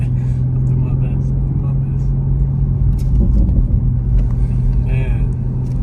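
A Toyota Supra's engine drones loud and steady from inside the cabin while it is driven, a deep continuous rumble with people talking over it.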